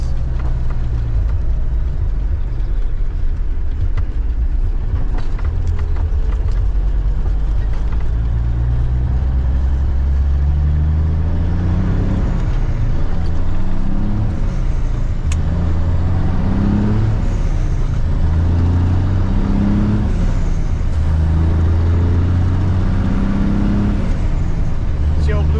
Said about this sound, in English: Truck rolling in, baby.